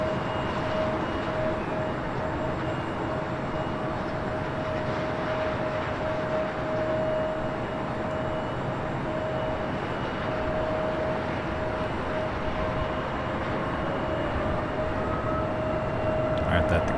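An airplane rolling down runway 25 right at LAX for takeoff, a steady continuous engine roar with a faint tonal whine, heard from a distance without much change in loudness.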